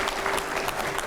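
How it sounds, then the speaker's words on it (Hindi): A studio audience on a live televised political debate show claps together in a brief, dense burst of applause, steady and fairly loud. "जोरदार तालियां हो"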